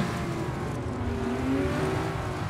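A street car in CarX Street holds a steady, droning engine note that lifts briefly with a short throttle blip midway, then settles back, heard close and alone.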